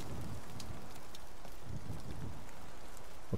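Rain and wind ambience in the PS5 game Dreams, a steady, soft hiss of falling rain with a low rumbling wind bed, unbroken and without voices.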